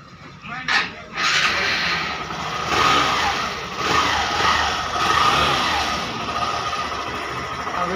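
A Hero Glamour 125 BS6 motorcycle, just refitted with its fuel tank after a fuel pump fault, starts with a short crank and then revs in repeated surges near the microphone, with someone talking over it.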